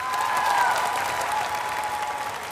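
Audience applause at a televised Vietnamese singing competition, a dense steady clapping from a large crowd that holds at a loud level throughout with faint vocal tones mixed in.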